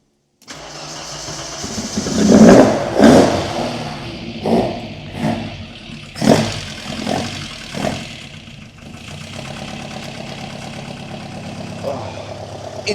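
A 1960s Alfa Romeo GT 1300 Junior engine cranks and fires, then revs sharply several times in quick bursts before settling into a steady idle, loud and close.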